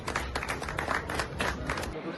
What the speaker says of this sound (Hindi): पुरजोर तालियों में